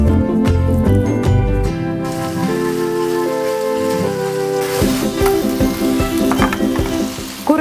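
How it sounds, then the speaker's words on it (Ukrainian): Chicken fillet strips sizzle in butter in a pan, a loud steady frying hiss with crackles and stirring throughout, alongside background music and no speech. "нарізаємо його подогостими смужками і обсмажуватимемо на вершковому маслі"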